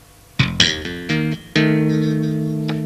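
Electric bass played with tapping technique: a few sharp thumb slaps and hammered notes, then sustained double-stop hammer-ons ringing out together; clean, close and alone.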